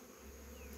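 A swarm of wild bees in the forest buzzes in a dense, continuous drone, faint and steady throughout the short moment with no voices.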